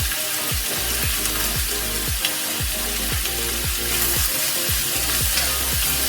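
A quick stir-fry sizzles steadily in a hot pan, with a rhythmic series of scraping strokes from a utensil under a dense, constant hiss.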